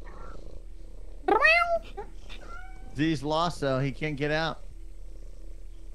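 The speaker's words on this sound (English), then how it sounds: "There's a cat." A cat in the game Lethal Company gives a short meow and a purring murmur early on, and then people talk over the rest.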